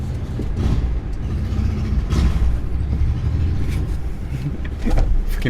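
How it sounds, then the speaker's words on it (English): A loud motorcycle passes outside, its engine a steady broad rumble that swells slightly and holds throughout, heard from indoors without talk. "Freaking motorcycle. They're always loud outside."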